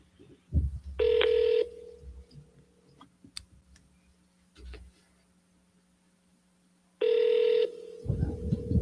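Ringback tone on an outgoing phone call, two long rings several seconds apart, clear and close, with faint clicks and brief handling noises in between.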